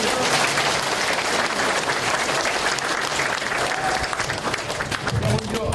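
Dense, steady applause from a large crowd at a Korean election campaign rally for candidate Kim Chung-seok, sustained and loud from start to finish with no pauses.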